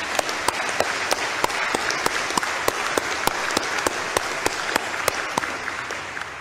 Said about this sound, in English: I want to give her an applause to Mrs.